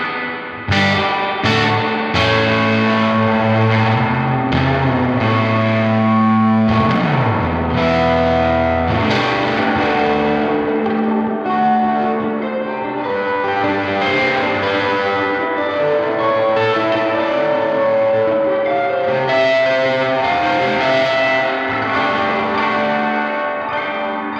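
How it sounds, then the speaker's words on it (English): A Collings 290 electric guitar plays through a Silktone amp with the reverb dwell and mix at maximum, giving loud chords and notes that ring into a long, washy reverb tail. "This is max reverb."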